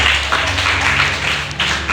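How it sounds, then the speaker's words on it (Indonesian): A church congregation claps in praise during a Sunday service, a dense wash of hand claps close by that holds steady throughout. "Tepuk tangan untuk Tuhan."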